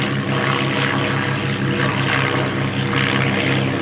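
A de Havilland Tiger Moth biplane's propeller engine drones steadily and loudly, a constant buzzing roar with slight pulsing, heard close on the ground at a vintage airfield.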